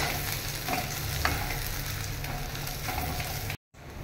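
A spatula turns boiled potato in a sizzling wok, with a continuous gentle frying hiss and soft scraping strokes, then a sudden short silence just before the end.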